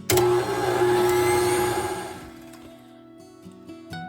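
An electric mixer with a whisk attachment beats banana bread batter, a loud close motor whine that starts abruptly, then fades and slows to a lower hum with a few brief clunks.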